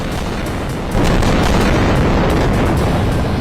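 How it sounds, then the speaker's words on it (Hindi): Phosphorus bombs bursting over Gaza during the Israel–Hamas war, a dense, continuous roar of booming and crackling blasts that swells louder about a second in, with no talk. "क्या गाजा पट्टी पर इजराइल ने फास्फोरस बम फोड़ दिया है?"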